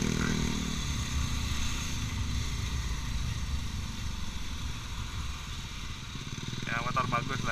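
A motorcycle engine runs steadily through the whole stretch, a dense, continuous drone with a constant rumbling texture and no clear revving peaks, as if heard while riding.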